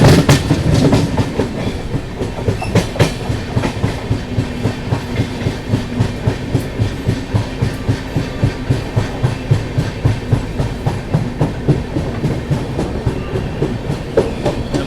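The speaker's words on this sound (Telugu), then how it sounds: "మనం ఇప్పుడైతే అనకాపల్లి రైల్వే స్టేషన్కి అయితే అరైవ్ అయిపోతున్నాము" A train pulls into Anakapalli railway station, its wheels beating a steady, rapid clickety-clack over the rail joints under a continuous loud rumble, heard from on board with no voices.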